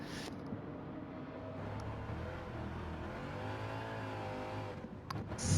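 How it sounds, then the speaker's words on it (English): A 700-horsepower Corvette race car engine in Gran Turismo on the twisty Tokyo Expressway, droning steadily and near as it rises and falls in pitch through revs, with a sharper surge at the end. "Corvette engine."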